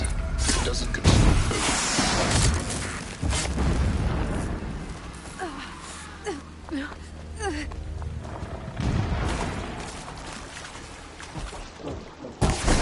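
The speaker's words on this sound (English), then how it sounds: "Explosions in the distance." Distant explosions rumble through Horizon Zero Dawn, low booms rolling in bursts over a continuous noisy game backdrop, with a few louder thuds near the start and end.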